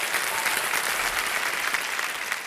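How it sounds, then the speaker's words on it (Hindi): Studio audience applause on the set of the game show Kaun Banega Crorepati: a dense, steady wash of many hands clapping, evenly loud throughout, with no speech over it. "बहुत बहुत स्वागत, तालियां बज जाए इनके लिए।"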